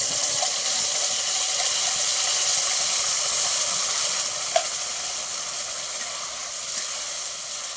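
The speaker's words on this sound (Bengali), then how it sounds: "তেল গরম হয়েছে, তেলের মধ্যে কালো জিরে দিয়ে দিচ্ছি, পেস্ট করা কুমড়োটা দিয়ে দিচ্ছি" Steady bright sizzle of pumpkin paste frying in hot mustard oil with kalonji (black cumin), a constant close hiss with a small crackle and pop around the middle, no voices.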